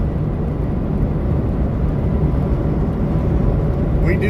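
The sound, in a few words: airplane passing overhead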